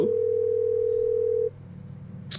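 An unanswered phone call in a horror video game gives one steady, clear ringing tone lasting about a second and a half, followed by quiet.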